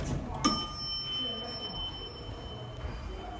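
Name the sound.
station door bell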